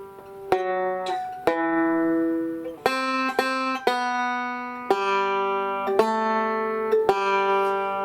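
Plucked banjo notes play part of Happy Birthday as a slow beginner melody, about a dozen clear, ringing notes with sharp attacks, close and alone with no talking.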